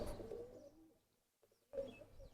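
An old Giribaz pigeon coos close by in a few soft, low bursts, with a quiet pause in the middle before the cooing picks up again.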